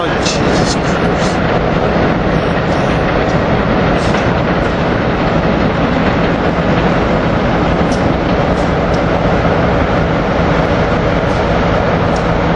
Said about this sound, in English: Here we got the Acela train leaving.